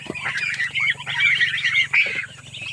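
Newly hatched poultry chicks peep and chirp in a dense, overlapping chorus close by, with some louder honking fowl calls mixed in and a steady low hum beneath.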